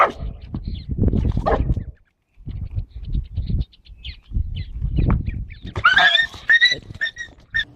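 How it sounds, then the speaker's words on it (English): A dog and a donkey at feeding time, with low grunting and barking-like bursts up close, then a higher braying-type call with harmonics near the end; some faint voices underneath. "A dog tries to hog all the food, and the donkey has the perfect comeback."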